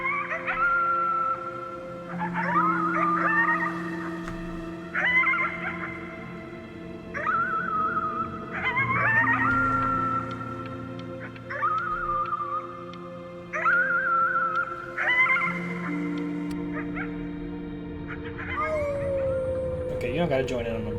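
Wolves howl in the video game Before Your Eyes, a series of long, rising and falling howls repeating every few seconds, loud and layered over low sustained music tones.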